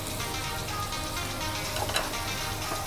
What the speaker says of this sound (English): I'm going to saute all this well nicely till it gets a lovely yellow color